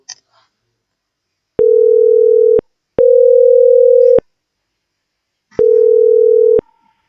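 A telephone line plays a steady ringback tone while an extension number is dialled, three long even buzzes of about a second each separated by silent gaps, loud and alone.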